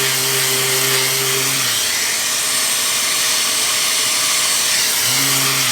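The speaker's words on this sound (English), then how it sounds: "Nothing like power sanding." Power sander working the surface of a dyed-rim wooden platter with a vacuum attached, a steady broadband whir with a droning motor tone that cuts out partway through and then starts up again near the end.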